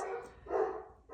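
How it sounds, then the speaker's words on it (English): Dogs bark nearby in a short, loud burst of two or three yaps, with a brief pause between them and no talking over them. "I'm sorry about my dogs."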